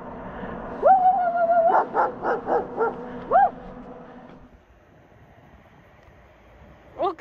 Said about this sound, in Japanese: ワンちゃんめっちゃ来たけど。